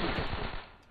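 Rapid machine-gun fire in the World War II shooter Call of Duty: World at War, a dense loud burst of shots lasting under a second, with no talk.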